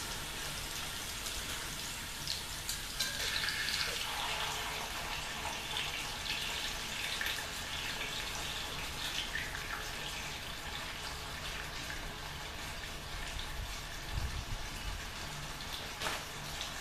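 Four bone-in pork chops brown in a cast iron Dutch oven set over a bed of about 24 coals, giving a steady, soft crackle and spitting sizzle that stays even throughout with no talk.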